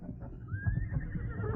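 A horse whinnies in a radio drama, a single rising, drawn-out neigh heard at moderate distance over a low background rumble, with no speech.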